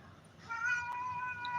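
A cat named Lion meows outside a house at night, a few close, clear tonal calls that rise in strength partway through and carry to the end.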